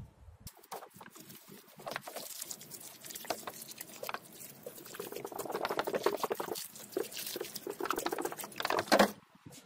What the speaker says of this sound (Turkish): Şimdi can suyunu vereceğim.